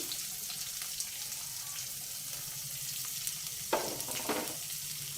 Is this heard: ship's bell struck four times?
no